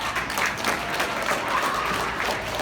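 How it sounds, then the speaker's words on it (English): Steady applause from an audience, many hands clapping continuously at a moderate level throughout. "Kind of don't have to clap for that part"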